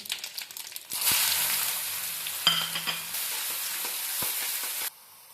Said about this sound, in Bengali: এরপর আমি দিব তেলের মধ্যে পেঁয়াজ কুচি